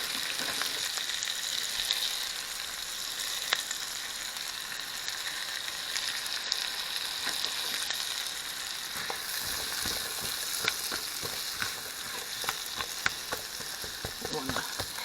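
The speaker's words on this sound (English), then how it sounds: "I want to caramelize the onions to get all that yummy onion flavor." Onions fry in a pan as the base for chicken pot pie, a steady close sizzle and crackle throughout with occasional light stirring scrapes and no talking.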